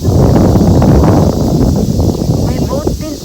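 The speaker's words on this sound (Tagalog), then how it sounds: "Wow, lakas ang hangin." Strong wind buffets the microphone at a seaside fishing spot, a loud steady roar with gusty rumble throughout, while people talk over it.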